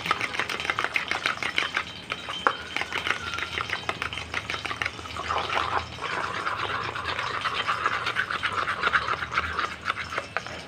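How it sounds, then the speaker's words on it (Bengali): Two eggs with chopped onion and green chili are beaten briskly in a bowl, a fast, steady scraping and swishing rhythm that stays close and fairly loud throughout. "আমি 2টো ডিম নিয়েছি, পেঁয়াজ কুচি, কাঁচামরিচ কুচি দিয়ে ভালো করে আমি মিশিয়ে দিচ্ছি।"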